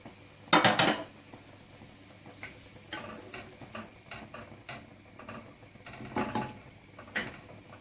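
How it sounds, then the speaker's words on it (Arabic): A metal lid set on a cooking pot of rice and shrimp, with a sharp clattering clank followed by scattered lighter clinks and taps of cookware nearby. "هنغطيها لحد ما تغلي"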